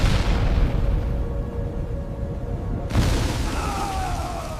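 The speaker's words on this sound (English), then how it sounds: "A massive explosion rips through the sky." A plane crashing in a massive explosion: a dense, roaring blast of broadband rumble fills the opening seconds, and a second heavy burst hits near the three-second mark before settling into a sustained low roar.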